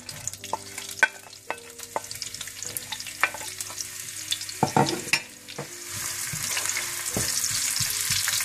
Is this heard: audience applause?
no